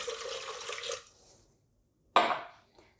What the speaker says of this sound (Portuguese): Vamos acrescentar um copo americano de água.